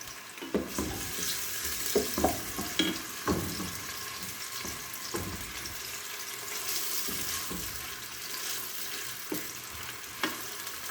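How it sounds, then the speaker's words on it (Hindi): Steady sizzling of onions frying in hot oil, with occasional clinks and stirring scrapes over a continuous hiss. "सबसे पहले मैं इसमें ऑयल डाल के प्याज फ्राई कर लेती हूँ।"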